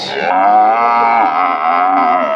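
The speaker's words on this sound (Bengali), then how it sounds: "এই হচ্ছে গরুটা অনেক বড় গরু অস্ট্রেলিয়ান গরু" A large Australian dairy cow at a Gazipur cattle market gives one loud, close, drawn-out moo that holds steady for over two seconds, with no other sound around it.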